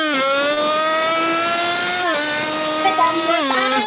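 Motorcycle engine revving at high speed, a loud buzzing whine held steady with a few quick dips in pitch between gear shifts, close and alone.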